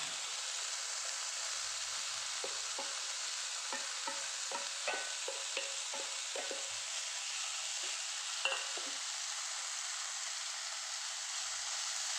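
Taro stem thoran with grated coconut sizzles steadily in a pan while a spoon scrapes and stirs it in a quick run of close, clicking strokes, then the frying hiss carries on alone.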